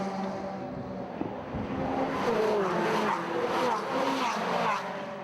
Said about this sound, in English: Battles rage on right the way down through the field here at Silverstone as Chris Randall is set for yet another win.